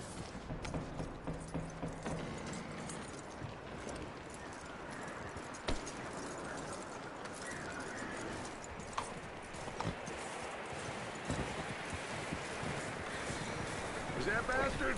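Horse hooves clip-clop steadily through Red Dead Redemption 2, a continuous trotting patter mixed with creaking tack and rustling ambience, with a voice speaking briefly under it.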